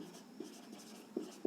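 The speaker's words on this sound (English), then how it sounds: "Now I can write the average load" Chalk or marker writing on a board while an equation is worked out in a structural engineering lesson, a faint continuous scratching with a few sharp taps near the end, quiet and close.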